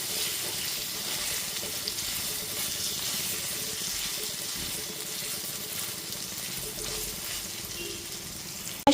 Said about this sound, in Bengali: গ্যাসের ফ্লেমটা লো টু মিডিয়ামে করে আদা রসুনটা 5 মিনিট ধরে খুব ভালো মতো কষিয়ে নিয়েছি।